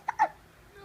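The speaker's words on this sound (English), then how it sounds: "Have you got the hiccups?" A baby gives two small, quick hiccups close by, one right after the other, followed by quiet.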